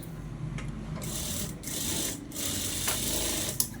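A sewing machine stitches a blouse border in short close bursts, its motor whirring in rapid runs separated by brief pauses, with no talk.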